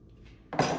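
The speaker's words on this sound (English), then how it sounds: "And then 2 ounces of our bacon bourbon. Directly in over the ice." Bacon-infused bourbon poured straight over ice in a glass for a maple bacon old fashioned, a short splashing pour with ice clinks that starts abruptly halfway through after near silence.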